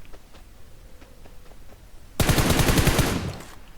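Burst of rapid automatic gunfire in PUBG Mobile, loud and close, erupting suddenly after a quiet stretch and rattling steadily for about a second before trailing off.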